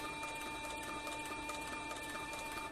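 A Cowboy CB4500 leather sewing machine with an open-toe presser foot runs fast and steadily, its rapid mechanical clatter close and continuous throughout with no talking.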